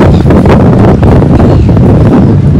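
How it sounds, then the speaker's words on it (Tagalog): Strong wind buffets the microphone at a breezy seaside spot in Russell, a steady, loud rumbling roar with gusty swells throughout and no clear voices. "Mahangin, Joe."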